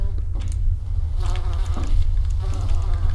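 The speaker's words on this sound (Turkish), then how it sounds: "Ceset, sinek var üstünde." A fly buzzing on a dead body in the horror game Wrong Floor, a constant close, loud droning hum with faint wavering overtones, with a few soft background noises and a brief voice.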